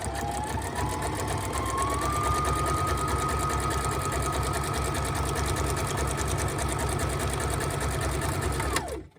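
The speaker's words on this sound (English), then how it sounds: "I'm at my sewing machine, and for the first stitch I'm going to do just a zigzag stitch." A sewing machine runs a zigzag stitch through paper scraps, a steady loud mechanical whir that holds without a break for about nine seconds and then stops abruptly.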